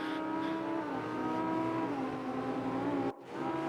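A Porsche race car in RENNSPORT at Road Atlanta drones with a steady, loud engine note that dips slightly and rises again, then cuts briefly near the end before resuming.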